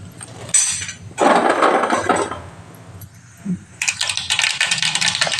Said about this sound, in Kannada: ಈಗ ಸಾಸಿವೆ ಜೀರಿಗೆ ಹಾಕಿದ್ದೆ ಚಟಪಟ ಹಾಕತ್ತು